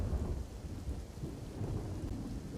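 Steady rain falls in the Ambaji area of Banaskantha, with deep thunder rumbling continuously underneath at a constant, fairly loud level for the whole stretch.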